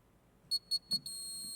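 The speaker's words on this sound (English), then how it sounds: "the buzzer's not working there" Quiz buzzer at a corporate quiz final, tested after a reset: three short, evenly spaced high beeps, then one sustained tone holding to the end, clear and close over a quiet room.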